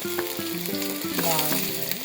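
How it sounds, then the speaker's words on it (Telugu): Onions frying in a pan give a close, continuous sizzle, brief and steady, with no voices. "మొత్తము ఆనియన్స్ ఇలా వేసుకుందామండి. ఫ్రైకి ఆనియన్స్ వేస్తే చాలా"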